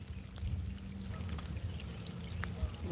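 Steady rain pours down during a fishing trip, giving an even, close rushing hiss that continues unbroken for the whole stretch, with no voices.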